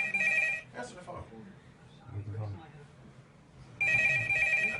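A telephone bell rings in two loud bursts at the start and end, with muffled voices talking in between.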